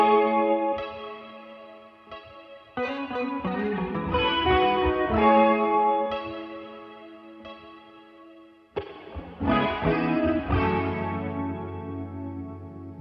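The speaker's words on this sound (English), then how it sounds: "we go straight to the guitar, and there's quite a few layers all playing off each other here" Layered electric guitars with effects: chords, quick strums and lead lines weave together, loud and reverberant, with no voices.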